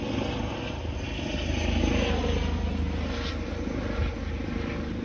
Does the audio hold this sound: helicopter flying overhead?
yes